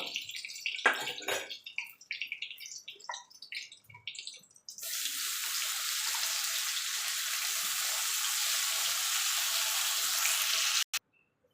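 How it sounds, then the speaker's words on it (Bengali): Okra frying in a pan of oil, a meatless dish cooked without onion or garlic: a broad, steady hiss of oil fills the second half, after scattered sputters and clatter at the start, ending abruptly. "এইভাবে বাকি ভেন্ডিগুলো আমি ভেজে নেব"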